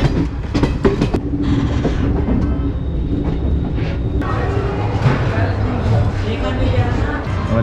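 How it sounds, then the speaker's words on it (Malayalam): A sleeper class passenger train crosses rail switches on a Jhansi to Nagpur run, giving loud, rhythmic clickety-clack wheel beats with a steady rumble and a brief squeal. The sound is close and constant, and a voice talks over it. "പാളങ്ങൾ ഇങ്ങനെ കടന്ന് കടന്ന് മറ്റ് പാളങ്ങളിലേക്ക് പോകുമ്പോഴത്തേക്കിനും കിടങ് കിടങ് എന്ന് പറഞ്ഞ് മാറുന്ന ശബ്ദം"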